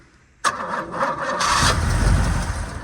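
A barn-find Pontiac GTO engine cranks and catches after a short silence. It sputters and coughs unevenly for a moment, then runs in a rough, loud, close idle with deep rumbling.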